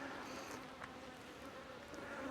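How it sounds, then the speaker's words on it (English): Agitated honey bees buzz at a hive, a faint, continuous insect drone with a few passing bees flying close, and nobody speaking. "Those bees are angry."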